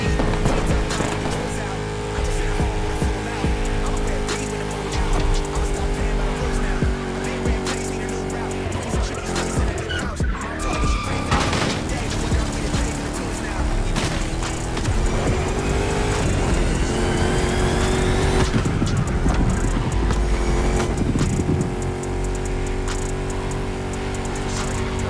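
Chrysler 300 SRT8 with a V8 Hemi racing in The Crew Motorfest, a loud continuous engine roar with shifting revs, tires squealing and skidding through corners, and a brief crash-like jolt midway, all dense and close throughout.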